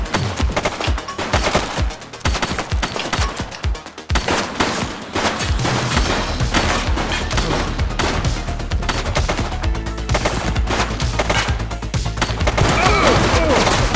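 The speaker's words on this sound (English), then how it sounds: "Shots fired!" Gunshots in the police game The Precinct: loud, dense volleys of rapid automatic fire and single shots, nearly continuous, with heavy thuds and a brief gap before the shooting resumes and intensifies.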